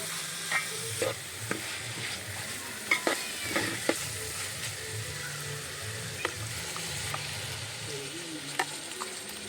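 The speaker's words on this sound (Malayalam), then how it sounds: "അടുത്തതായി തക്കാളിയും കൂടെ ഇട്ട് വഴറ്റാം" Tomato and ginger-garlic-chili paste sauté in a pan for beef roast, a continuous low sizzle broken by scattered clinks and scrapes of stirring at close range.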